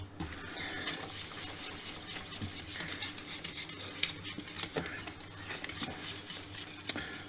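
Cheese stirred constantly in a metal pan, a busy run of irregular utensil clicks and scrapes against the pan with a faint patter underneath, close and unaccompanied by talk.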